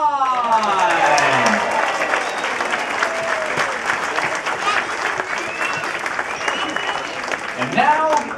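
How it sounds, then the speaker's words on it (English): Audience on board the Golden Princess cruise ship applauding the executive chef: loud, sustained clapping from a large crowd, with an announcer's amplified voice speaking over it at the start and again near the end. "let's hear a big thunderous round of applause for your executive chef"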